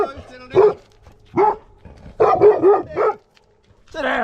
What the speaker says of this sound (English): She's a lovely dog.